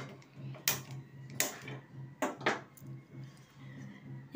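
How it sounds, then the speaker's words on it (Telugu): A kitchen gas stove being switched on, with a few sharp, separate metallic clicks of the knob and igniter over a quiet background hum and no talking. "గ్యాస్ స్టవ్ని ఆన్ చేస్తాను."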